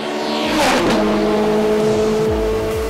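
Supercars racing at Zolder circuit in the Supercar Challenge, engines roaring loud and close as a car surges past, its tone sweeping up, with further engine notes and quick gear changes trailing off near the end.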